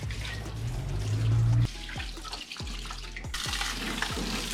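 Water runs steadily from a sink tap in a close, hissing stream for about a second and a half, then stops, leaving a few faint drips and clatters.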